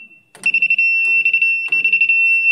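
A handheld non-contact voltage detector emits loud, close bursts of rapid high-pitched electronic beeps as circuit breakers are switched on, three beeping runs separated by short pauses.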